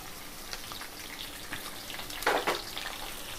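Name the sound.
onion frying in a pan for moringa vegetable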